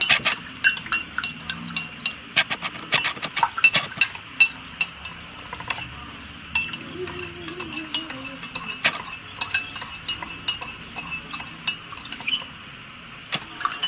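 Tongs stirring a cup of freshly strained tea, giving a steady run of light metallic clinks and scrapes against the glass, close up and fairly quiet, with a faint background hum throughout.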